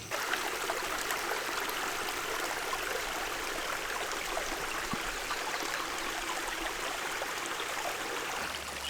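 Creek water flowing steadily beside a blackberry patch in a Kentucky garden, a continuous close rushing and trickling babble with no pauses or voices.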